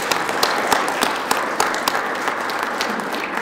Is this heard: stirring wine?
no